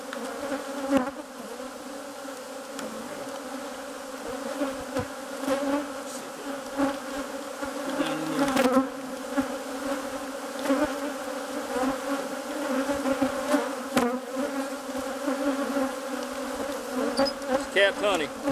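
Honeybees swarm around an open hive frame of capped honey, a dense, steady buzz holding close and loud throughout with a few sharper passes of single bees near the ear.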